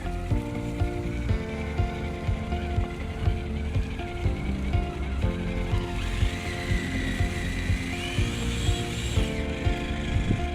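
A Traxxas Summit RC truck climbs a staircase, its electric motor whining and gears grinding in a continuous, busy mechanical rattle with pitch surging and dropping as it pushes up the steps; no speech.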